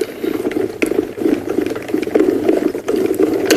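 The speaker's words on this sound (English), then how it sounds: "let's run that through our embossing machine" A card being cranked through a die-cut embossing machine makes a loud, close, steady mechanical grinding with ratcheting clicks, and no one speaks.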